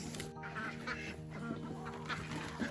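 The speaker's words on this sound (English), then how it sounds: "Our ducks have just started laying a little bit more" Farm ducks quack in short repeated calls over a steady background, moderately near, with no talking.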